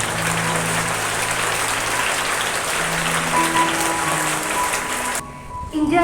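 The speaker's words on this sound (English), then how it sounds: "let us give them a warm round of applause for their beautiful presentation" Students and teachers at an Indian school assembly on World Soil Day clap for a class presentation, a steady wash of applause across the hall that cuts off near the end, with faint tonal hum beneath.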